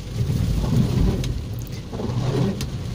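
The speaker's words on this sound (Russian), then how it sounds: "потому что дождь" Rain falling outdoors on a late-August day, a steady close wash of patter with low rumbling underneath, alone without talk.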